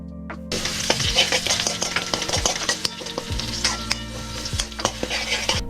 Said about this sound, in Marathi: याला छान हलवून घेतोय.